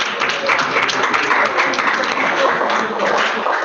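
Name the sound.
audience applause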